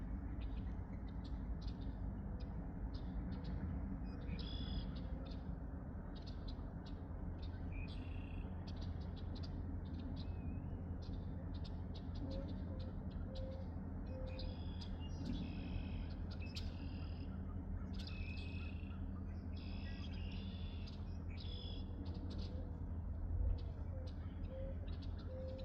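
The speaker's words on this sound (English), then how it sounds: "Sound of morning birds singing." Morning birds sing in bursts of chirps and calls at a moderate distance over a steady low mechanical hum from working locomotives, with a faint voice now and then.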